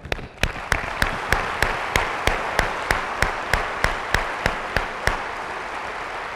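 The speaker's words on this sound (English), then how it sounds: "I would like to give a round of applause to all of our 44-member strategic planning team members" Rhythmic unison clapping rings out at a school staff convocation honoring a strategic planning team, a steady beat of about two loud, sharp claps per second from a crowd in a large room, carrying on alone for several seconds.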